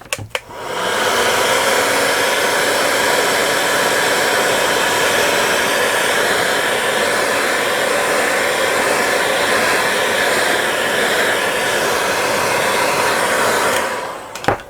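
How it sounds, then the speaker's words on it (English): A heat gun blows steadily on a Samsung A51 phone during a screen repair, making a loud, continuous rushing whoosh that lasts about thirteen seconds before it clicks off. "I'm going to apply a little heat again."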